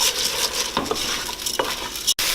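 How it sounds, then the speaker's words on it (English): Risotto rice toasting in a hot pan while being stirred without pause: a dense, close sizzle with dry scraping strokes and brief clatters of the spoon, ending in a sudden cutoff. "I'm constantly stirring because you don't want the rice to start to stick to the bottom and then burn"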